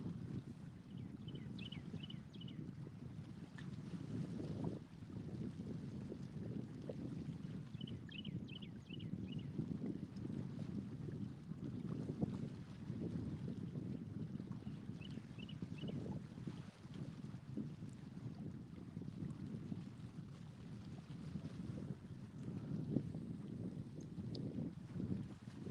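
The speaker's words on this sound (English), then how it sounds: "Now the wind is not stopping." Wind blowing steadily across a lake during cold-weather fishing for blue catfish, a continuous low rushing roar with gusty buffeting against the microphone and faint high chirps now and then.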